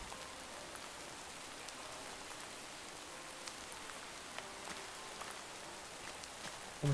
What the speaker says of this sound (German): Dieses dämliche Regenwetter.